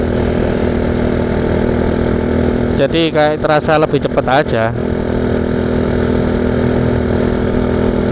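A motorcycle engine hums steadily while the bike is ridden, holding a constant low drone under someone talking up close.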